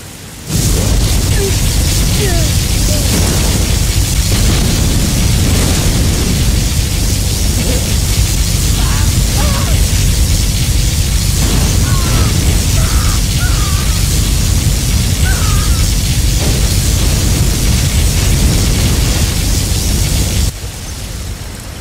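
Continuous loud particle cannon blasting and rumbling explosions in Command and Conquer Generals, a dense roaring barrage that holds steady for about twenty seconds before dropping off at the end.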